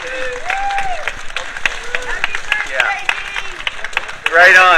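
Applause from a press conference crowd in San Francisco for attorney Dean Royer of the TAG class action lawsuit, steady clapping with cheers and voices mixed in, swelling louder near the end.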